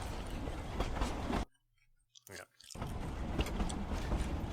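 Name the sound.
train sound effect in a tabletop role-playing game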